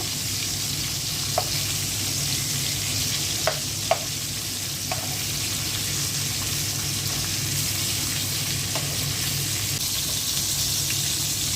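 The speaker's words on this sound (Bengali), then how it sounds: "মাছগুলো উল্টে দিচ্ছি। 2টা মাছ আমি কড়া করে ভেজে নেব ভর্তার জন্য।" Rohu fish pieces frying crisp in a pan, a steady close sizzle of oil throughout with a few sharp clicks and taps of a utensil as they are turned, no talking.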